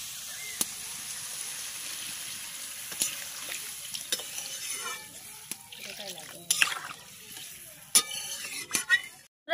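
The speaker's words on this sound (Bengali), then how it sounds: "এবার আমি জলটা দিয়ে নেব।" Water is poured into a pan of kohlrabi curry with bori and tangra fish, making a close sizzle and bubbling with a few sharp clinks of a stirring spoon. Someone talks over the sound.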